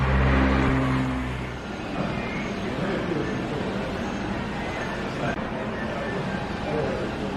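A large bus in Croatia rumbles loudly with steady engine noise throughout, a brief louder surge at the start settling into a continuous close drone.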